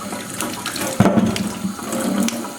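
Tap water runs steadily over fresh ginger root as it is scrubbed clean for homemade ginger beer, with a sharper splash about a second in, close and continuous.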